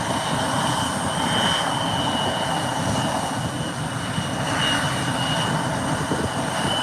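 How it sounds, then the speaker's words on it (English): A small airplane passes overhead with a steady broadband engine drone that swells and eases slightly as it goes by, loud and continuous with no talking. "Nice little plane."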